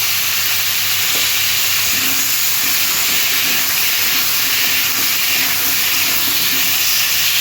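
Frying in a pan as tomato goes in with fried potatoes and stalks for a Bengali fish curry with drumstick stems and lentil dumplings, a steady close sizzle and hiss running throughout with faint stirring scrapes.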